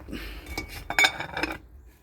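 A metal lid set back onto a pot of boiling saba bananas, a cluster of clinks and clatters lasting about a second, close and moderately loud, then quiet.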